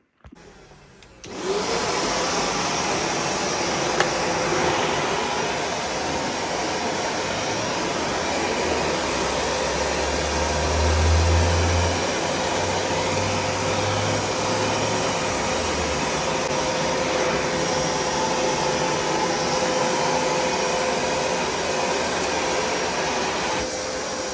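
A Karcher WD 3 wet and dry vacuum cleaner switches on and runs with a steady, loud whooshing roar and motor whine, holding constant for over twenty seconds with a brief low surge midway.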